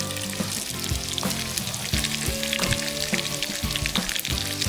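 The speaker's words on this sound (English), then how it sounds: "let it cook, let it fry up in that butter." Onion and pepper frying in melted butter in a pot, a dense close crackling sizzle with repeated knocks and clatters of stirring running throughout, no one speaking.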